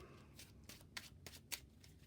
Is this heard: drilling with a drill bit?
no